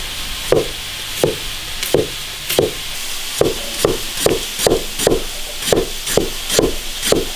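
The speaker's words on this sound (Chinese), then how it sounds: "土豆切一点。" Potatoes being cut with a knife on a board, a series of about fifteen sharp chops at a fairly steady, unhurried pace, close and clear with no talk.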